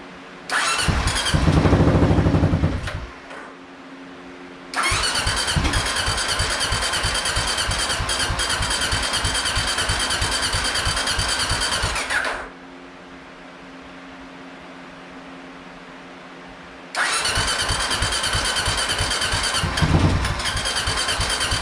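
A motorcycle engine running on unusual fuel revs loudly with a rough, crackling roar, drops to a quieter idle, then surges again in long sustained bursts with faint popping, close and alone without voices.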